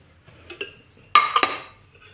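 A metal kadhai (wok) set down on a home gas stove while cooking aloo matar: a few light clinks, then one sharp, close metallic clank that rings briefly and fades, with no talking.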